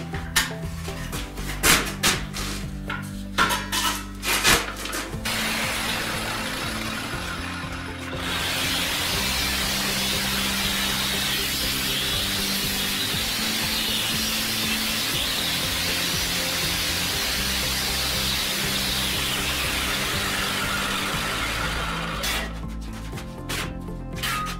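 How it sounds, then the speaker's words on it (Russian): Metal pipe is sawn during a home build of a 3-in-1 smoker, grill and kazan stand. A few loose metallic clanks come first, then a steady, harsh cutting noise runs for about fifteen seconds before the clanking returns. "Вот снимаем шаблон и начинаем пилить."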